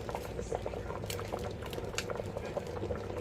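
Small flour dumplings called spinners dropped into a pot of red peas soup with pigtail and beef, a steady rolling boil bubbling and popping close by with light splashes.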